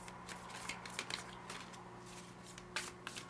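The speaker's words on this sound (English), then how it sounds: "Show the shuffling so we know you're not just picking random cards." Tarot cards shuffled close by during a reading, giving a soft, steady riffling and sliding with a few sharper flicks, quiet and continuous with no talk.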